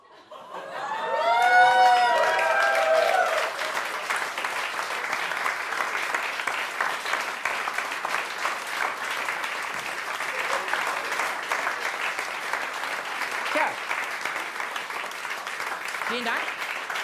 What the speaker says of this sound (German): Den Applaus habt ihr euch wahrhaftig verdient.